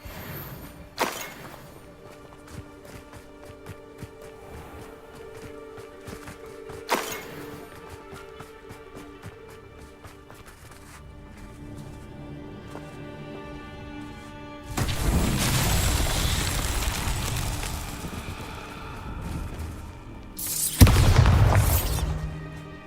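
Bombarda and Confringo spell blasts in the Hogwarts Legacy video game: a couple of sharp booms early, then a long roaring burst of explosive noise near the end with a final loud hit, over steady game music.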